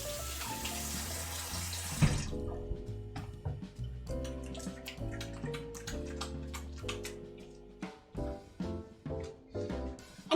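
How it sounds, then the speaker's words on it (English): Water running from a kitchen tap as bacon grease is rinsed off hands, a steady splashing rush that stops after a couple of seconds, followed by light clinks and taps nearby. "Wash the bacon off my hand before touching the mouse"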